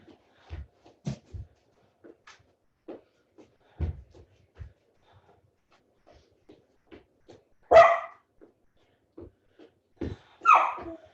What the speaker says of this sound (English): She's probably barking at the squirrels.